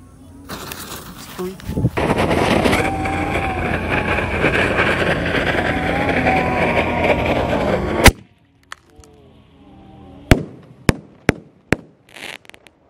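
A yellow roman candle bazooka launcher firework fires with a long, loud burst of crackling and whooshing for several seconds, followed by a few sharp, separate pops in the quiet night air during a celebration.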